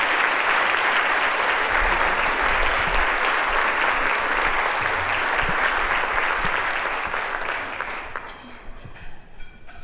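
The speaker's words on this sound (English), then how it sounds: "please give a big round of applause to Carla Harris" A conference audience at a finance event breaks into sustained, dense applause that holds steady before tapering off near the end.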